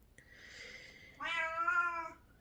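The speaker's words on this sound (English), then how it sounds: "And that is my cat chiming in to say hello." A cat meows twice: a soft, quiet call followed by a louder, drawn-out meow, alone in a quiet room.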